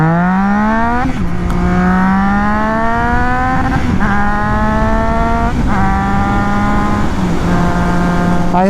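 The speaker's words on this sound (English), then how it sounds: "I hit the rev limiter again twice." A Triumph Trident 660 motorcycle's engine howls close and loud, climbing in pitch through close gears and repeatedly slamming into the rev limiter before dropping back, four rising sweeps in a row.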